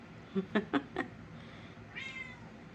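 A hungry pet cat lets out one clear, drawn-out meow near the end. It follows a quick series of short, quiet vocal bursts from a person imitating meows, all in a quiet indoor room.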